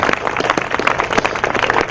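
Outdoors at a park opening ceremony, an audience gives a brisk round of applause, a dense patter of many hands clapping close by for a couple of seconds.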